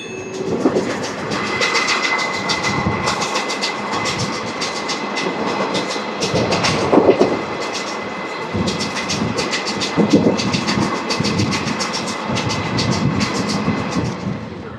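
The Rayagada–Guntur Express runs on rails after leaving Tuni station, with a steady rumble and rhythmic clickety-clack of wheels over track joints, loud and close.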